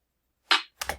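A sharp snare-like hit followed by a second punchy hit with low kick thump, part of a sparse trap drum pattern programmed in FL Studio, short and clean with no talking.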